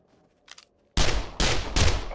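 Zombie-shooting gunfire in 7 Days to Die: after a faint blip, three loud close shots crack in quick succession, each with a short ringing tail.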